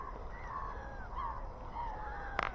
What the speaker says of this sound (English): Yeah, they're crows.